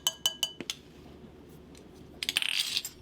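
A utensil clinks against a bowl while stirring 2 cups of powdered sugar with pumpkin pie spice for a donut glaze, giving quick bursts of close, bright clinking at the start and end with quieter scraping between.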